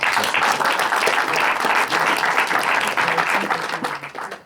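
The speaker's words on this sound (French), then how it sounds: "On peut l'applaudir aussi." Loud, dense applause from an audience at a tech talk greets the speaker, sustained clapping that tapers off toward the end.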